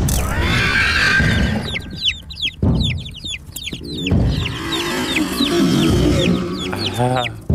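Chickens cluck and chirp loudly and repeatedly in close, busy bursts over a steady, noisy background.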